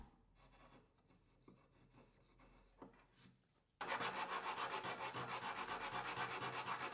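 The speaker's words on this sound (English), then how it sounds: "The dried glue can be removed very easily with a sharp chisel." A sharp chisel scrapes dried glue off a wooden joint: faint, sparse scrapes at first, then loud, steady, rapid rasping strokes close by, with no voices.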